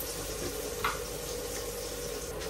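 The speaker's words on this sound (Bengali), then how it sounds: "এখন আলুটা একটু ভেজে নিব।" Potatoes fry in a pan with green chili and turmeric, making a steady, dense sizzle up close, with one brief clink partway through and no voices over the hiss.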